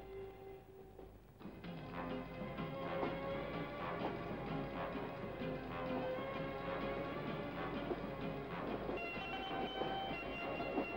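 A train running on rails in a 1972 Turkish film scene, a steady loud rolling rumble with rhythmic wheel clatter that continues throughout, no voices heard over it.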